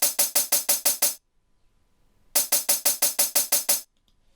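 A UVI Relayer delay set to sixteenth notes with eight repeats: a burst of even, sharp percussive hits, a gap of near silence, then another longer train of identical rapid echoes, loud and close with no talk.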